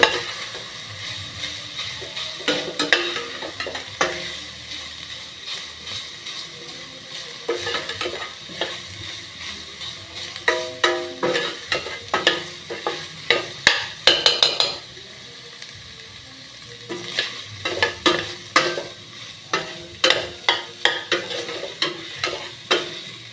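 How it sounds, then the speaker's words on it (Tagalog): Beef browning in a pot for a Christmas pasta sauce, with steady sizzling and frequent scraping, clattering stirs of a utensil against the pot, growing busier and louder toward the end. "Nilimog ko yung pot ng beef."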